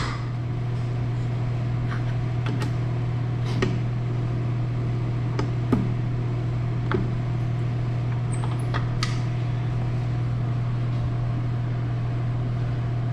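A stand mixer runs on its lowest speed with flour and salt in the bowl, a steady motor hum with light scraping and ticks throughout, all close by and with no talk.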